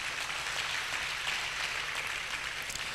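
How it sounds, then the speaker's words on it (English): An audience at a Nigerian professional secretaries' institute conference claps in a dense, steady wash of applause that holds at an even level throughout, sounding somewhat distant. "A round of applause,"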